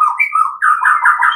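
A long-tailed white-rumped shama (murai batu) sings close and loud, a continuous run of bright whistled chirps and warbling phrases with a brief pause midway and no talking.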